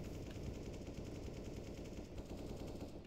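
Rapid automatic gunfire in the game CSGO rattles continuously at a steady pace, dense and fairly faint, with no talk over it.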